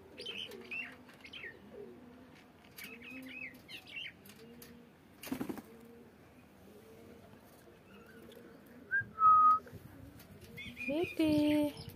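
A pet green parrot gives scattered chirps and short whistles, near and fairly faint at first, with a few louder, sharper calls toward the end. Coos and wing flaps mix in, and a person talks quietly through most of it.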